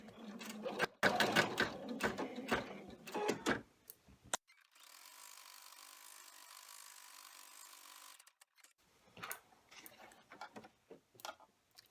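An embroidery machine stitching a tack-down line for an in-the-hoop fabric coin pouch keychain, with rapid mechanical ticking and clatter, a pause with a steady hum, then more intermittent ticking and handling noises.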